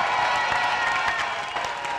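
A political rally crowd for the European elections claps steadily for speaker Mélissa Camara, a continuous dense wash of applause from a large audience, loud and sustained throughout.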